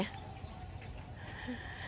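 Thai native village chickens at a rural home in Uttaradit, faint clucks and brief calls scattered over a steady outdoor background hum, no clear crowing.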